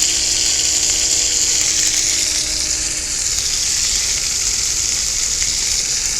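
A hamburger steak frying on a cast iron griddle gives a loud, steady sizzle that holds evenly close up and alone, with no talking.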